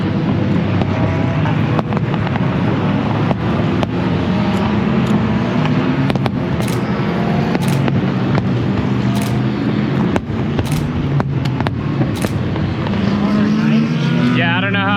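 Race cars at the Rolex 24 endurance race roar past continuously and loudly while fireworks crack and pop overhead, with people talking over the din.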